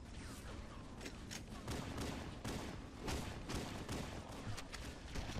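Enemy gunfire in Halo: Combat Evolved, dense continuous bursts of rapid shots and thuds layered together, loud and unrelenting throughout with no pauses.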